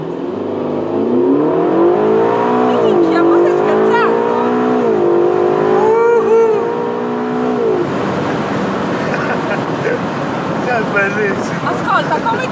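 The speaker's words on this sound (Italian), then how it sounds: "Ora, quando dico via, schiaccia tutto così, ok?" A Ferrari California T engine revs hard under full throttle, its rising and falling tone climbing through gears loud and close, then giving way to rushing road and wind noise.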